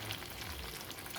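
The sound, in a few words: water poured into hot pan of cooking chicken, sizzling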